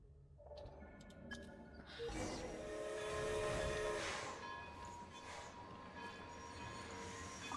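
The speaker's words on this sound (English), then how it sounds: "Start the train to Snezhnaya." A coal train starts up in Genshin Impact, a rising mechanical rumble and hiss that swells after a few seconds and settles into a steady rolling drone.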